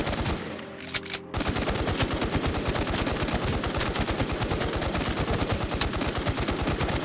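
Sustained automatic gunfire in the online shooter game Warz II, a rapid, even stream of loud shots that starts after a brief pause and continues without letup.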